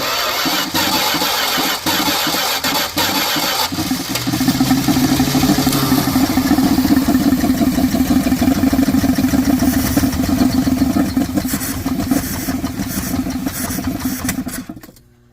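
A 1979 Dodge engine cranks, then catches and runs roughly, with an uneven, loud idle close by that holds for the rest of the clip; no one speaks.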